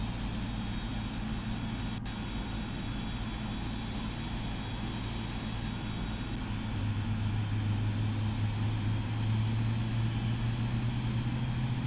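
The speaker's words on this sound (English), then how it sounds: "Man, I love the sound of an engine starting up." Jet engines of a PMDG 777-200LR spooling up in the Prepar3D flight simulator, a steady broadband roar with a low hum that swells slightly partway through, continuous and fairly loud with no talk.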